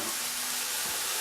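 Ground meat browning in a pot, a steady soft sizzle and hiss that holds evenly through a short stretch.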